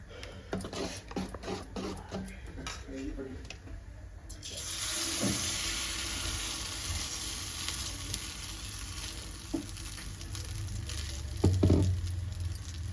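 Batter drops into hot oil and a sudden loud, sustained sizzling hiss rises after a few seconds of quieter kitchen clatter, the bubbling continuing steadily with an occasional clunk near the end.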